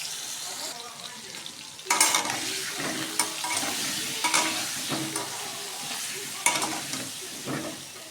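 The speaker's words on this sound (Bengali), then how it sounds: "আলুটা ভেজে নেব।" Potatoes fry in hot white oil in a wok with salt added, giving a steady sizzle broken by repeated stirring scrapes and clatters, close and moderately loud with no talk.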